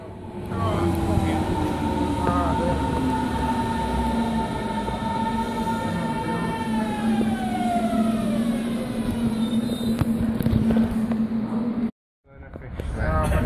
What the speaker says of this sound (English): so here we are officially on the tram